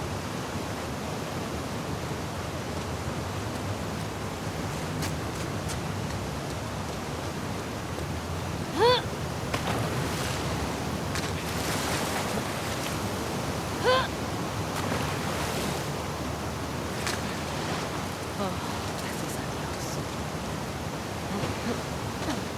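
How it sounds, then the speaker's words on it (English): Water waves washing around the player while Ellie swims toward the aquarium in The Last of Us Part II, a steady broadband wash of surf with a couple of brief splashy peaks, continuous and fairly loud, with no talk. "however it remained in essence in the section swimming to the aquarium as Ellie when you were avoiding the waves"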